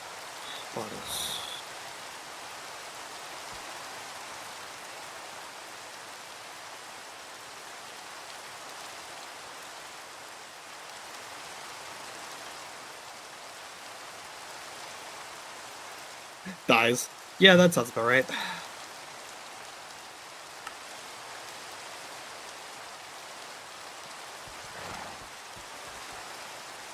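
Steady rain falls in TerraFirmaCraft, a Minecraft mod game, as a constant soft hiss across the whole stretch, with occasional brief talk from players breaking in.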